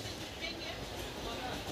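A moving passenger train heard from inside, with a steady, dense rumble and hiss of the carriage and a muffled murmur of voices blended into the noise.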